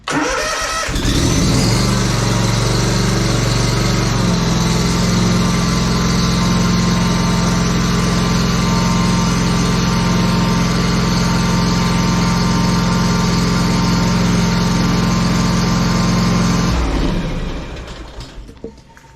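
A Trimstar mower engine, just fitted with a replacement battery, cranks, catches and runs with a loud, steady drone for about fifteen seconds before shutting off and fading out.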